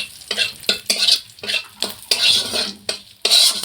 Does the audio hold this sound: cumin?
yes